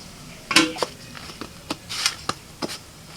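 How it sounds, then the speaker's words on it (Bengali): A metal lid goes onto a cooking pot in a home kitchen: a cluster of sharp clinks and clatters, then a few lighter taps spread over a few seconds, close and with no talking. "এবার দশ মিনিটের জন্য ঢাকা দিয়ে দিচ্ছি"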